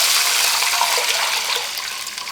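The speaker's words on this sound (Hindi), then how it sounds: "अब इसमें जाएगा पानी।" Water poured into a cooking pot for prawn biryani, a steady, close hiss of flowing liquid that keeps going without a break and eases off slightly toward the end.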